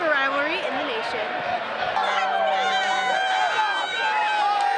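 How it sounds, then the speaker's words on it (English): Crowd at a sellout college soccer rivalry match, a dense wash of screaming and whistling fans with rising and falling shrieks, loud and continuous, with a voice speaking over it. "the fans are screaming"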